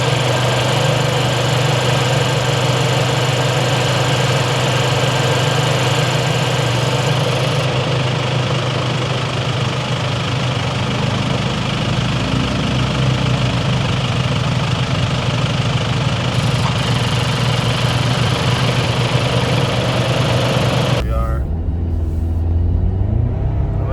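A 6th gen Toyota 4Runner with a turbo engine, on 38-inch tires, accelerates onto the freeway, heard from inside as a loud, continuous engine drone and road rumble that hold steady throughout.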